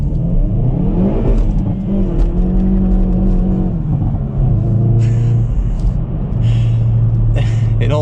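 A 2022 Hyundai i30N front-wheel-drive hot hatch accelerating flat out from 10 to 60 mph, its engine note rising steadily through the gears with brief shift dips, loud and close from inside the cabin, with someone talking over it.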